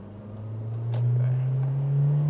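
A Honda Civic Type R EP3 accelerates hard in second gear off a roundabout, its engine note climbing steadily and loud from inside the cabin, with no talk over it.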